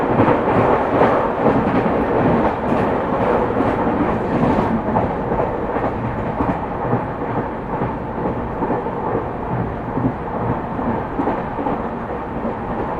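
A monsoon express train runs through Diva Junction on the Pune-Mumbai line, a loud continuous rumble and clatter of wheels on rails, heard steadily from on board.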